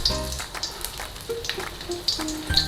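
Ginger drops into hot oil in a wok for crispy sweet and sour garlic chili chicken, setting off a soft close sizzle with scattered pops and faint tonal beeps.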